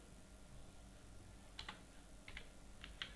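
Faint, soft clicks of typing on a computer keyboard arrive in a few short bursts of keystrokes over quiet room tone, with no one talking.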